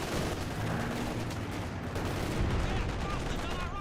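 Machine gun fire in the real-time strategy game Company of Heroes 2 rattles in dense, continuous bursts within a busy battlefield mix.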